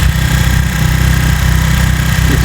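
Small Senke X6 motorcycle engine with a bogging fault, running steadily at a low, throbbing rumble close to the recorder, loud and unbroken with no speech.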